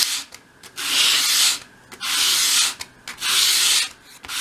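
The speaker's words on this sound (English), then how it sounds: "hold the piece at a 45-degree angle against your sandpaper, and as you sweep it towards you," Small wooden piece for a 1/12th scale dolls house cupboard, held at a 45-degree angle and swept across sandpaper to bevel its edge; three long, loud, close scratchy strokes separated by short pauses, with no voices.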